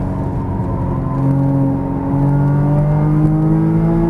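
A Porsche Cayman GTS on a racetrack gives a steady close engine drone whose pitch glides smoothly as it brakes and turns in, with no voices over it.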